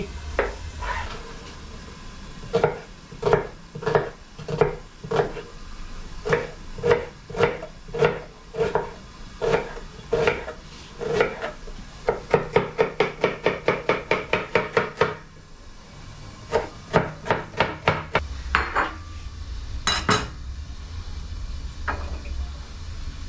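Onion being chopped on a wooden board with a knife for Bolognese: steady rhythmic thuds in bursts, speeding into a rapid run of quick strikes, close and clear with no talking.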